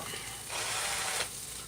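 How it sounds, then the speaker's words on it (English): An egg blender whirring through eggs, a brief mechanical rattling buzz that rises for under a second, close and moderately loud. "Eggs are all blended up."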